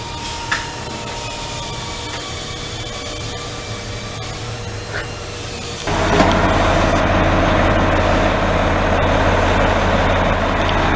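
Compressed air hisses steadily into a Lenco Bearcat tire fitted with a run-flat insert, a loud continuous rush that grows fuller partway through and keeps going to the end.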